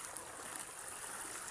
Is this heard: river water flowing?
yes